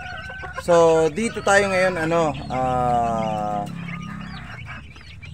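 A backyard flock of early-bird batch chickens gives loud, drawn-out clucking and honking calls close by, while a person talks over them.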